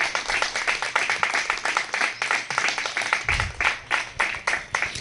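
A congregation claps in a steady, rhythmic unison beat during a worship service, crisp regular hand claps repeating throughout with little talk.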